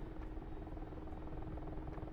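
Mi-24 Hind helicopter in a flight combat video game, a steady droning rotor and engine noise that holds constant throughout, faint and continuous with no talk over it.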